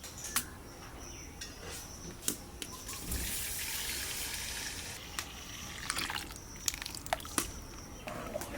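Reserved masoor dal cooking water is poured back into a pot, making a soft, quiet splashing pour in the middle. Light clinks of utensils come before and after it.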